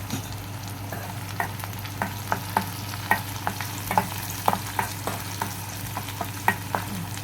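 Onions frying in a pan with a little salt, stirred repeatedly, in a small home kitchen: a steady close sizzle under regular scraping stirs, no talking.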